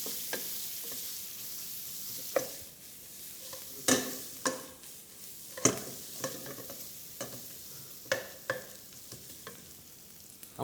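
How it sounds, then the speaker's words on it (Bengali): Onion and meat fry in butter in a pan, a soft sizzle broken by sharp scrapes and clinks of stirring at irregular intervals, quiet and close. "আমরা অনিয়ন দিয়ে এটাকে সুন্দর করে ফ্রাই করে নিচ্ছি"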